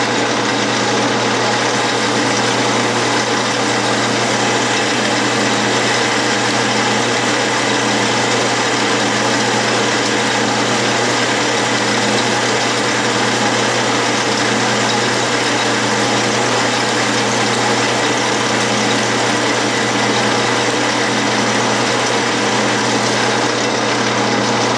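A Clausing metal lathe bores aluminum with a thick, heavy boring bar, making a steady, loud, unbroken mechanical whir and hum that lasts throughout with no talking.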